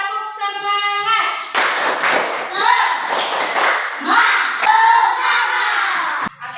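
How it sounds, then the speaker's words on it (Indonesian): Indonesian schoolchildren in a classroom perform a rhythmic spirit clap, with bursts of loud group claps and chanted shouts following a brief spoken cue. "Oke, tepuk semangat."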